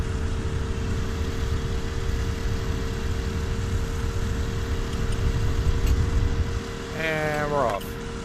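A light aircraft engine in UltraWings 2, flying over Queensland, drones steadily and closely at a constant pitch before dipping slightly near the end, where a voice briefly cuts in.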